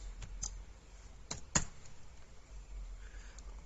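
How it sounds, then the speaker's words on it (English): A handful of sharp computer keyboard key clicks spaced across a few seconds while a band name is typed into a music site, with one louder tap near the middle over a quiet room background. "Let's just type in there."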